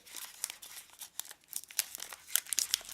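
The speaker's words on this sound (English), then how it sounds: "open up the packet by, of course, peeling where it says peel me" Crinkly plastic wrapper of a Cadbury Dairy Milk Oreo Sandwich packet being peeled open up close, a run of sharp crackles and short tearing bursts with no speech.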